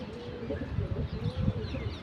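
Pigeons coo softly and repeatedly close by, low throaty murmurs overlapping in a loose rhythm over a faint background hum.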